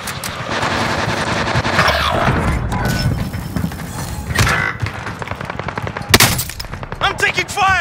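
Gunfire in Call of Duty: Modern Warfare, loud bursts of shots and impacts running through most of the stretch, with a sharp blast near the end, mixed with game voice and sounds.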